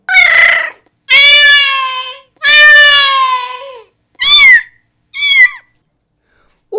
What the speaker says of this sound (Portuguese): O gato.